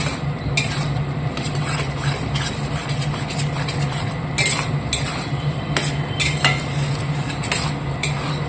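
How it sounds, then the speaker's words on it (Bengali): Onion, ginger and garlic are stirred in a pan, with a spoon clinking and scraping against the metal at irregular intervals over a steady low hum and faint frying sound. "ভালো করে কষে নেব যাতে পেঁয়াজের মানে আদা রসুনের গন্ধটা চলে যায়"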